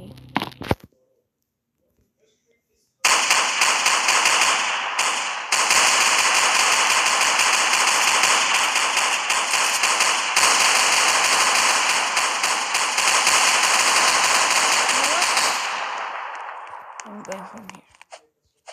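Rapid, continuous gunfire from a Roblox Brookhaven game rattles loudly for about twelve seconds after a short quiet start, then trails off.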